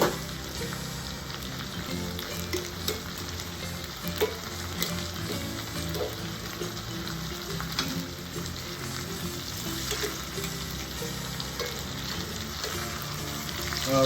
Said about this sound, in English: What you do is you just sear the steaks.